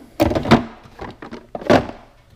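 A couple of heavy metal thunks and rattles, like drawers sliding shut on a tool chest, close by with short gaps between.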